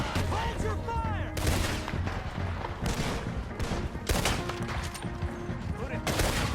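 Gunfire in the video game Red Dead Redemption 2, with repeated loud shots and volleys cracking out in clusters during a battle, while game characters shout over the fighting.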